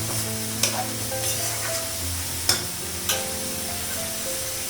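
Tomatoes sizzle in a hot pan while being stirred, a constant crackling fry broken by a few sharp scrapes and clacks of the spoon against the pan.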